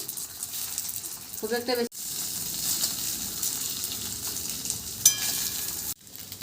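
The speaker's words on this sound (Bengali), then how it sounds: "এরপর এগুলো একটু হালকা করে ভেজে নেব" Black cumin seeds frying in a spoonful of ghee in a hot wok give a steady, close sizzling hiss that runs the whole time, with someone briefly speaking over it.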